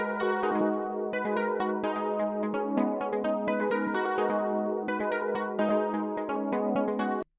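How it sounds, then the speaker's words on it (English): Juno synthesizer melody loop from a sample pack, a steady run of plucky chord and note hits in an even rhythm, sustained tones ringing underneath, loud and close, playing alone before cutting off abruptly at the end. "Got this really cool Juno melody loop."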